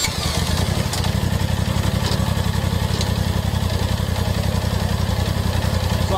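A small engine revs up steadily with the drive clutch engaging the belt, a loud, continuous low throbbing drone with a fast, even pulse and no pauses.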